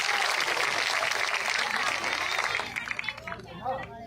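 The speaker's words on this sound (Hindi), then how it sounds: "एक बार जोरदार तालियों के साथ इन सबका हौसला बढ़ाएं।" A village gathering in India bursts into loud, sustained clapping that dominates for nearly three seconds, then trails off into crowd chatter and scattered voices.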